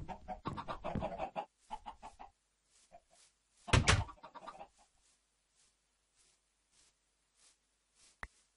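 Minecraft chickens clucking in a chicken coop in the video game, a few short bursts of clucks with gaps between them, fairly close and clear, with a brief click near the end.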